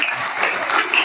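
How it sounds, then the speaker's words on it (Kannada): Audience applause at a government school event, a dense wash of many hands clapping steadily and fairly loud throughout, with no voices on top. "ನೀವೆಲ್ಲರೂ ಕೂಡ ಜೋರಾಗಿ ಚಪ್ಪಾಳೆಯನ್ನ ಹೊಡೆದು ಅಭಿನಂದನೆಯನ್ನ ಸಲ್ಲಿಸಬೇಕು"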